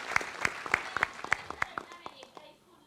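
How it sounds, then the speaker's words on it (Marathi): An audience claps for a child named Harshvardhan at a live show, a short burst of loose, uneven hand claps fading out after about two seconds, with faint voices underneath. "हर्षवर्धनसाठी जोरदार टाळ्या वाजवा"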